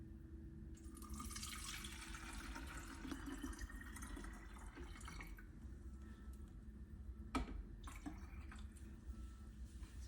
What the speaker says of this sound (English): we're going to add water into the clean water tank right here